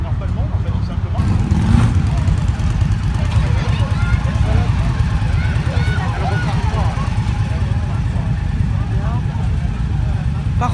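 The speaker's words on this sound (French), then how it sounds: "J'aime bien la résonance aussi dessous de l'échappement en fait." Indian motorcycle exhaust resonance while riding on the Côte d'Azur: a steady, low droning engine rumble with wind noise throughout, under a rider talking.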